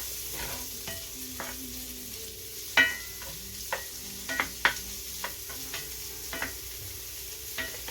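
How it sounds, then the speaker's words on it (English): Vegan spam fries in a pan and is stirred, with scraping and tapping utensil strokes over a steady low sizzle, close and alone without talk. "cook that for a few minutes, like that. Stir it up."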